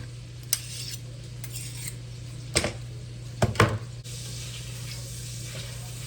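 Sausage browning in a pan, a quiet steady sizzle broken by a few sharp clinks of utensils against the pan.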